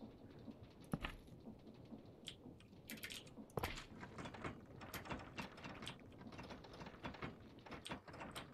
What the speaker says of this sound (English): self-propelling machine. And see, it's going very fast, right?